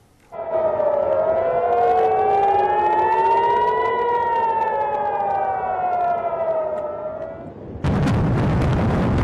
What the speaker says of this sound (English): Air raid sirens sounded throughout Israel as Iran launched this attack